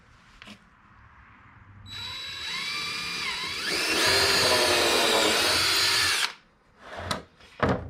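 A power drill bores into the timber bed frame of a van build, whining as it speeds up and biting loudly through the wood for several seconds, then stopping, followed by a few short knocks.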